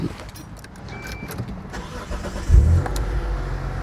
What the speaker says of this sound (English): There's going to be a bit of noise when the engine starts up